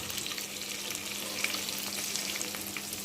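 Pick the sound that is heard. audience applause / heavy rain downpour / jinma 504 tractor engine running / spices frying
spices frying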